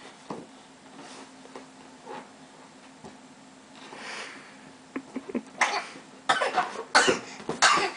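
Several sharp coughs in a row near the end, loud and close, after a quiet stretch with faint rustling.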